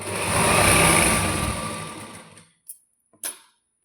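A domestic sewing machine stitching fabric for a kaftan nightie, a loud steady motor whir for about two and a half seconds that then stops, followed by a few short clicks.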